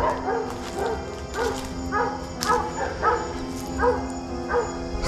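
Several dogs bark repeatedly in a steady series of yaps, moderately distant, outside a century-old house at night, with no talking.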